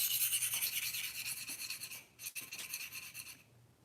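A Cruwear steel knife blade is drawn over a sharpening stone in quick, even strokes, a close rhythmic rasping that pauses briefly midway and then stops.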